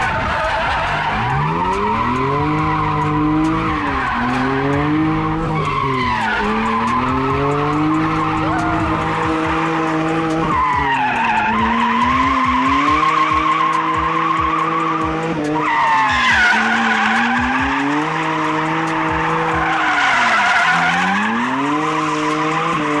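A drift car skids through continuous slides, its engine revving hard and rising and falling while the tires squeal loudly and steadily throughout, heard close up.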